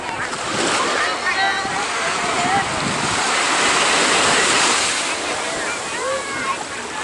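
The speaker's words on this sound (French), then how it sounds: "Alors la plage est là" Waves wash onto a beach at Sihanoukville, Cambodia, a steady, fairly loud surf with wind noise across the microphone and occasional faint tonal sounds in the background.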